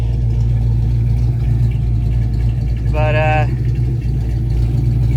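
A Foxbody Mustang V8 with aftermarket headers runs steadily, a loud continuous low rumble throughout, with a brief higher tonal whine partway through and a short spoken word over it.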